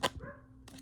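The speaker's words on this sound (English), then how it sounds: "he's just barking at my husband because he opened the front gate" A dog gives a single sharp bark as someone opens the front gate, followed by a short whine and a softer second bark, close to the microphone with no talking.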